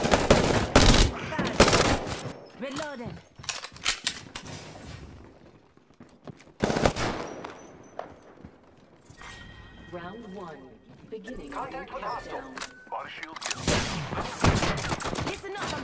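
Rapid bursts of automatic gunfire and single shots ring out in a session of the video game Apex Legends, with loud clusters near the start and end and voices talking in between.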